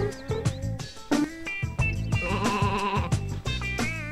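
Cartoonish sheep bleats from the video game Sheep Raider repeat several times over bouncy game music and short sound effects; bright, loud and close, with no talking.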